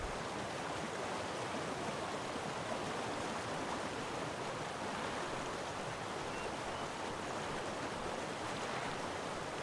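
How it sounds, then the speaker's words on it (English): A waterfall in the fishing game Call of the Wild: The Angler, set in South Africa, gives a steady, even rushing roar of falling water with no pauses or voices. "Drive me close to the falls."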